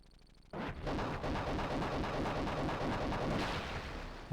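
A Scud missile launch and blast in a Desert Storm combat video game: a sudden loud roar erupts after a brief quiet lead-in and rumbles on steadily, dense and booming, for several seconds.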